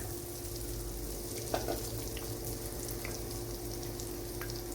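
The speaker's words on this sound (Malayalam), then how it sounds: "ഇനി ഇതിലേക്ക് ഓയിലിലേക്ക് ചേർത്ത് കൊടുക്കാം" Breadcrumb-coated cauliflower pieces fry in hot oil with a steady, dense crackling sizzle that holds throughout, broken by one small splash or clink.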